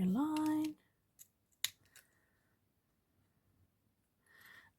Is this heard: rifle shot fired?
no